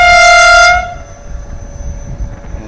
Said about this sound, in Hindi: दूसरा डिपार्चर हॉर्न भी हो गया